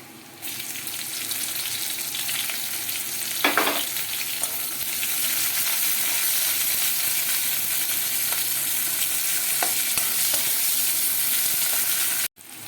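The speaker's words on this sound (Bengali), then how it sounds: "এরপরে দেবো কেটে রাখা পেঁয়াজ।" Chopped onion fries in a pan with crushed garlic, for a taro-leaf dish. A steady, close sizzle runs throughout, with a louder burst of spatula stirring and scraping near the start and a few lighter taps later. No one speaks.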